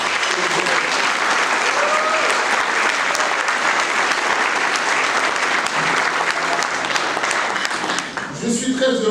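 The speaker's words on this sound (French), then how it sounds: "Une bonne main d'applaudissement également." A large crowd applauds loudly and steadily, the clapping continuing without a break before tapering slightly at the end.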